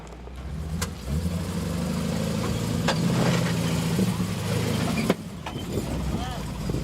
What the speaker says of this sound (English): Nick Harris in the Cafe Cream vehicle going very nicely over the wall to get to the other side.